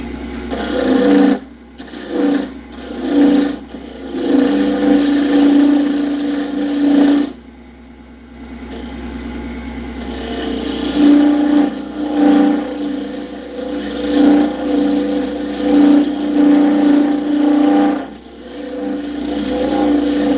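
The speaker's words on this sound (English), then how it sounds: "Is it just me, or does Mike's chisels sound dull?" A dull carbide chisel cuts wood on a lathe, a rough scraping grind that comes in repeated bursts with short pauses between passes, close and fairly loud.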